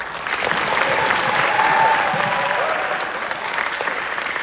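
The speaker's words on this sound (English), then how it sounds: "And I think you should give yourselves and everyone give you another round of applause." Audience applause for a school marching band, a broad sustained round of clapping at moderate loudness, briefly swelling in the middle, with faint voices or cheers mixed in.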